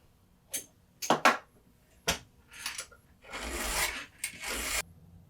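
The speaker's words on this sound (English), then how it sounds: "I think I'm gonna shut up and just finish sharpening this chain" Chainsaw chain being filed by hand on the saw: a series of faint, close rasping strokes, a few short scrapes and then two longer file passes, with quiet gaps between them and no talk.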